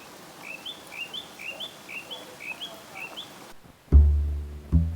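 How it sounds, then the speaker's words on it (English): Birds chirp in a repeated series of short, bright tweets over soft outdoor ambience, followed by a couple of louder low thumps near the end. "Now Deb, being Deb, thought it'd be a lovely idea to put some food out for the birds"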